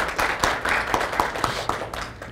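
Clapping at an industry association general meeting, a small group of hands striking in a fairly regular rhythm, a dozen distinct sharp claps over a light background of applause.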